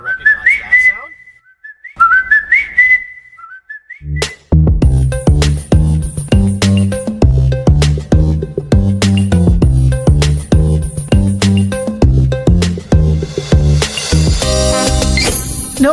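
The McDonald's audio logo jingle: a whistled five-note motif played twice, then a bright full-band musical sting with steady beats.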